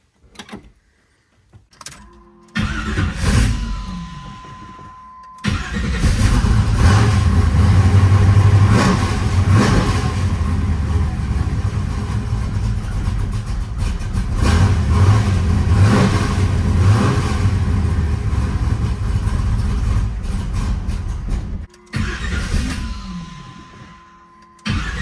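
A 500 hp 400 cubic-inch small block Chevy V8 in a Trans Am cranks over, catches and idles loudly, then revs repeatedly in strong rising bursts for about twenty seconds before shutting off, close to the microphone with no talk.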